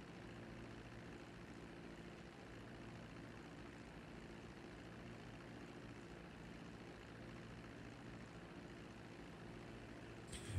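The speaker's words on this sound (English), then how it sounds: "the nice thing about those planes is they are fairly slow" A slow propeller plane cruising in GTA V, a faint, steady engine drone with a low hum that holds evenly and never changes pitch, no one speaking.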